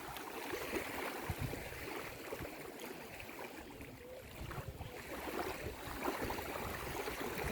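Steady rushing and lapping of choppy river water, continuous and fairly close, with no voices.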